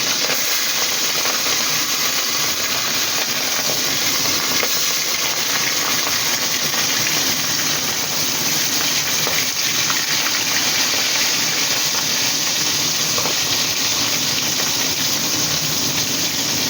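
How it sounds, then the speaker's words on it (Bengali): Thin hilsa fish broth comes to a boil in a pan, giving a steady, close, dense hiss and bubbling roar that runs unbroken and evenly loud throughout. "বন্ধুরা দেখো, ঝোলটা আমার ফুটে গেছে।"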